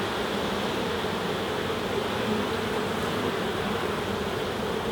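Dense, steady buzzing of a large mass of honey bees during a hive inspection, loud and unbroken throughout.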